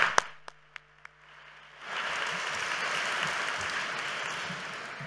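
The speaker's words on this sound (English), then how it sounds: "Can we get a round of applause for the committee members and all the volunteers?" An audience at a community iftar gathering bursts into sustained applause for committee members and volunteers, a few isolated claps first, then a dense, even wash of clapping that fills the room and continues to the end.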